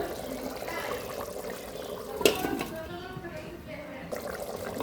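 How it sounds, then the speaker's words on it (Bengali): Water poured into spicy beef curry being braised, likely in a rice cooker; a faint trickle with one brief louder splash midway over a steady background hiss. "আরেকটু একটু করে জল দিয়ে দেব মানে পানি দিয়ে দেব"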